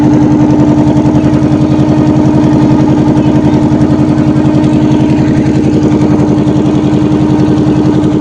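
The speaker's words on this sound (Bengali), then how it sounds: "নৌকাটা স্টার্ট দিয়ে দিয়েছে, ফটোর করে আওয়াজ হচ্ছে" A boat's engine runs at the Gadkhali ferry ghat in the Sundarbans just after starting, a loud, close, steady chugging with a rapid, even pulse and no talk over it.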